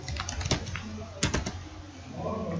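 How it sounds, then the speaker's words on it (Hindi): Rapid clicking of keys on a computer keyboard while names are entered into an Excel spreadsheet, close and clear in uneven clusters, with someone speaking softly underneath. "अब यहाँ पर नाम लिखते हैं, जब्बार"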